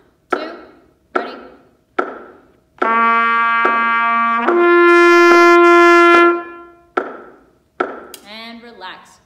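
A trumpet plays lip slurs, sustained tones shifting smoothly between partials across several notes, set between sharp taps of a foot counting time before and after.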